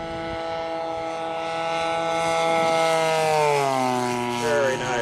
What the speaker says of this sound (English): Like Jason's got the P-40 coming around,